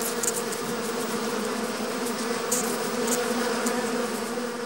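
A mass of honeybees swarms to sting a death's head moth that has broken into their hive, a loud continuous buzzing drone with faint higher flickers of wingbeats over it, holding steady throughout.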